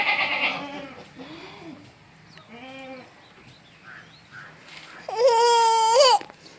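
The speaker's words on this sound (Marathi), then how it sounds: "बकरी कशी करते बे कशी करते" A goat bleats several times, nearby and clear, with a long loud bleat near the end and quieter calls between.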